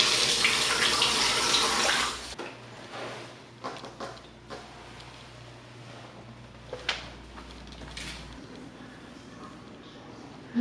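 Water runs from a faucet into a sink with a steady rushing stream for about two seconds, then stops, leaving faint clinks and quiet room noise.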